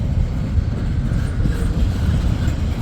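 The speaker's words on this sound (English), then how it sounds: "Locomotive double stacks." A CSX SD70MAC locomotive hauls a double-stack freight train up a steep grade, giving a loud, continuous low rumble and roar that holds steady throughout.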